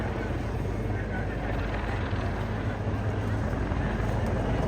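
A Wildcat military helicopter flying at the Eastbourne International Airshow, a steady loud rotor-and-engine drone throughout, with an announcer talking over it.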